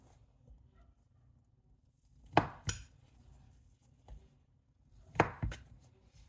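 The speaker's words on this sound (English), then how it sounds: "We're gonna just cut them into fourths." A knife cuts refrigerated biscuit dough into fourths on a board, with two pairs of quick, close, firm thumps separated by quiet, plus a fainter single knock between them.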